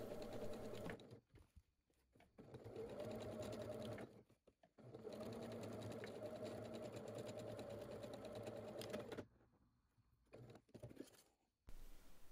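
A sewing machine stitches a gathering seam for a fabric ruffle on a long summer skirt, with steady, close, rapid humming runs broken by short pauses.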